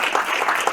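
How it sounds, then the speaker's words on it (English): Applause from an audience at an executive speaker series luncheon in Dallas, a short dense burst of many hands clapping at steady volume, no voices over it. "So let's give them another round of applause."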